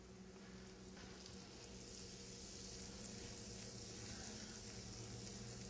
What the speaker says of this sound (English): I'm going to fry them in some butter.